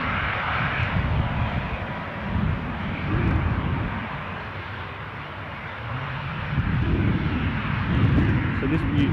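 A Jet2 Boeing 737 airliner at Newcastle airport gives off a steady, rumbling engine roar that swells and fades over several seconds, heard at a distance under continuous talking nearby.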